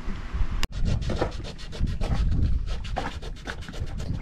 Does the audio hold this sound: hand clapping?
no